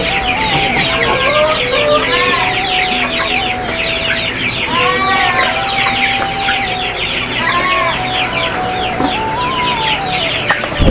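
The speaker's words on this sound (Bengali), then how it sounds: "চলে আসলাম আমার মুরগি ঘরের ভিতরে" Chickens cluck inside a chicken coop, a dense, close and continuous chorus of overlapping clucks and squawks with no voices.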